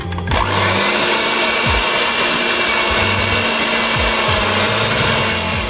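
Electric mixer beating thick spiced cake batter for a pineapple coconut cake: a steady, loud whirring drone that holds without pause, with faint periodic knocks as the beaters move through the bowl.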